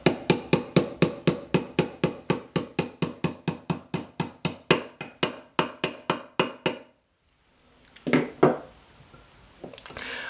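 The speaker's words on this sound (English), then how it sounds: "I'll just punch out this hinge pin just so I could remove the striker block. And for that we use the 1/8 punch." A hammer strikes a 1/8 punch to drive the hinge pin out of a Smith and Wesson SD9VE pistol. Over thirty sharp, evenly spaced metallic taps come in a steady rhythm, then stop, followed by a few quieter handling knocks.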